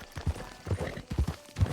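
Horse hooves clip-clopping at a steady walking pace in the open-world western video game Red Dead Redemption 2, a series of close, regular thuds with no talk.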